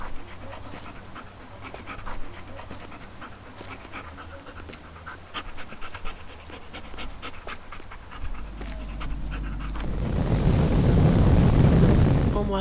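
A dog panting in the video game Teardown, a steady close breathy rhythm running through most of the stretch before a loud rush of wind-like noise swells near the end.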